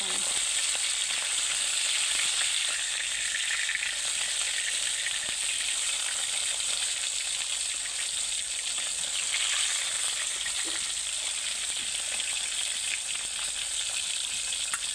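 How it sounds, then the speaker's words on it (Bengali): Tilapia fish frying in oil in a pan, a steady loud sizzle with a continuous bright hiss and crackle running unbroken throughout, with no voices. "এই যে মাছটা কিন্তু ভাজা হয়ে আসছে"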